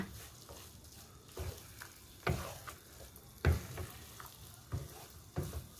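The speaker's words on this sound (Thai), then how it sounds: "กวนนะคะให้ข้าวเหนียวกับตัวถั่วดำเข้ากันนะคะ" Sticky rice with black beans is stirred in a pan, making a steady soft sizzle punctuated by periodic scraping thumps of the utensil, close and moderately loud with no talking.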